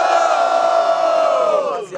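A crowd at a rap battle roars and yells in one sustained, loud mass of voices that fades slightly near the end.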